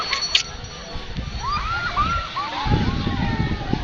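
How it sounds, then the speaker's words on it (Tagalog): Sea water sloshes and splashes against the shore in a steady wash, growing slightly louder toward the end, while people talk nearby over it. "Yun, dagat."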